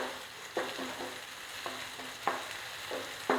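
Tomatoes sauté in a hot pan with a continuous sizzle, while a spoon scrapes and stirs in a few sharp, irregular strokes.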